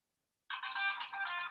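A phone rings with an incoming call during a bingo birthday livestream, a steady electronic ringtone that starts abruptly after a brief silence and holds clearly, fairly close and alone.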